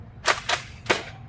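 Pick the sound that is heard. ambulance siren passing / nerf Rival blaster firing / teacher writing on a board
nerf Rival blaster firing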